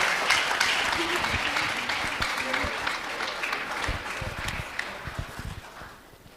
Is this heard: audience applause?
yes